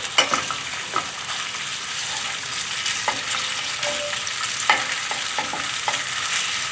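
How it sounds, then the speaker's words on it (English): A steady, loud sizzle of chicken searing and stir-frying in a hot pan, broken by occasional clicks and scrapes as the chicken is stirred. "We want to stir fry, sear the chicken first."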